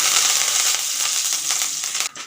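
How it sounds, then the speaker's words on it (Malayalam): Mustard seeds splutter and pop in hot oil in a pan while cooking a Kerala-style avarakka mezhukkupuratti, a dense close crackling sizzle that fades near the end. "എണ്ണ ചൂടായി വന്നിട്ടുണ്ട് അതിലേക്ക് കടുക് ഇട്ട് കൊടുക്കാം"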